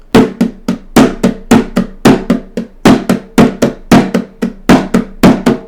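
A 7/4 rhythm played as sharp percussive hits, stressed on beats one, four and six: loud, close strikes with clear accents in a repeating uneven pattern, no voices.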